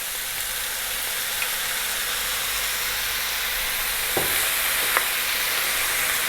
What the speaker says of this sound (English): We're now going to add 1 can of tomatoes.